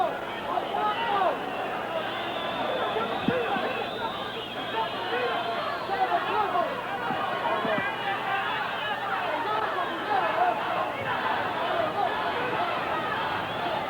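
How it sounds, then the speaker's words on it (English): A boxing arena crowd in the eighth round of Edwin Rosario versus Howard Davis Jr., a dense steady roar of voices rising in rhythmic chanting of Rosario's nickname throughout, with scattered shouts over the hubbub. "that's what you hear the crowd chanting in the background"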